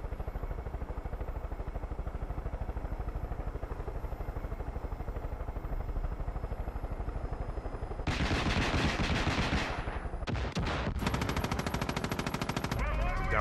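Helicopter in Far Cry 5 with a steady rapid rotor chop, then loud bursts of machine gun fire and rocket blasts breaking in toward the end, close and harsh.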